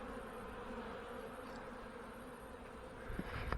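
Honey bees swarm around an open hive during a March inspection, a steady dense buzzing drone of many insects close by, continuous throughout with no talking.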